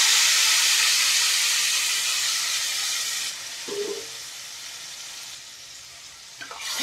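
Curry leaves and puréed tomatoes sizzle in hot oil, a loud steady hiss that softens partway through, with faint stirring clinks near the end.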